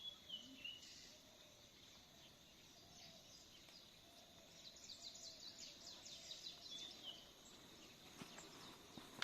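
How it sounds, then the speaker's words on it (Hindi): Birds chirp and sing softly in open countryside on a farm, high thin calls and rapid trills scattered over a faint insect hum, all quite distant and gentle with no one talking. "नैसर्गिक रूप में वही मधुर सा कलरव पक्षियों का"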